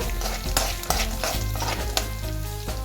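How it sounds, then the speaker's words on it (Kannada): Peanuts and roasted gram being stir-roasted in a hot pan for a North Karnataka dish, with loud continuous sizzling and scraping stirring strokes, close up and without speech. "ಈಗ ಶೇಂಗಾ ಹಾಕೊಳಕತ್ತೀನಿ ರೀ ಮತ್ತು ಪುಟಾಣಿ ಹಾಕೊಳಕತ್ತೀನಿ ನೋಡ್ರಿ ಎಲ್ಲ ಚೆನ್ನಾಗಿ ಹುರ್ಕೋಬೇಕು"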